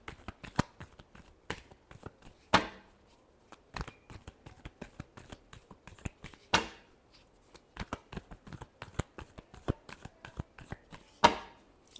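Tarot cards are shuffled by hand in quick, irregular riffles and taps, close and fairly quiet, with a few sharper slaps standing out among the softer flutter.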